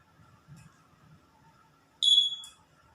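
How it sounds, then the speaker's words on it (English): A 9-volt, battery-powered smart wristband with an ADXL335 accelerometer sounds its buzzer alarm. It gives one short, shrill, high-pitched beep lasting about half a second after quiet, faint background murmur. "it gives the buzzer and the LED should be on and off"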